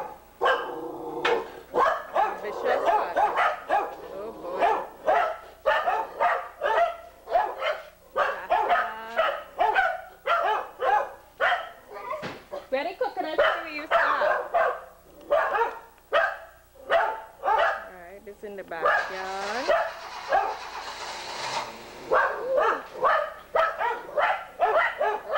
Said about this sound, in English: Your neighbor's dog.